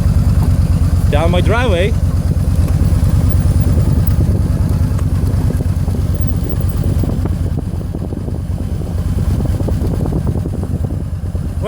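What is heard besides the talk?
Yamaha V-Star 950 motorcycle riding in first gear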